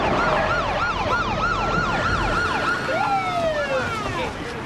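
Wailing sirens cycle rapidly up and down in pitch, loud and close, with a second siren joining in with slower, longer sweeps near the end.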